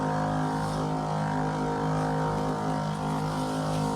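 A tractor arrives at a cotton field to build ridges, its engine a steady, loud droning rumble with a humming tonal edge that holds unbroken throughout, with no voices.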